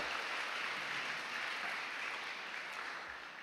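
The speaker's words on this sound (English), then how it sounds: "Can we get a round of applause for them again?" A round of applause for honoured students at a high school National Honor Society induction and hooding ceremony, dense clapping from an indoor audience that fades slightly toward the end.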